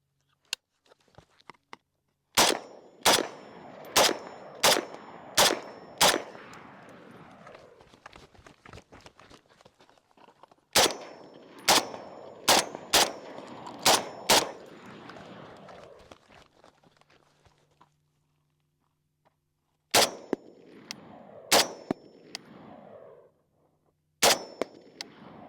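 A Springfield M1A rifle fires a string of sharp, loud gunshots outdoors, in quick volleys of several rounds separated by pauses, each crack trailing off in echo.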